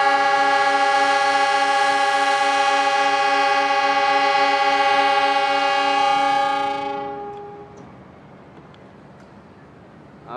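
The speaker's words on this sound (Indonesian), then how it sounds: "nah itu dia kereta api Argo Wilis Semboyan 35" Argo Wilis train sounding a long, loud, steady horn as it departs Bandung station; the blast holds for about seven seconds, then cuts off, leaving the quieter rumble of the train rolling past.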